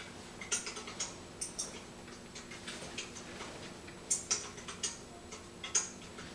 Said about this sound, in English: Hunter's typing something there.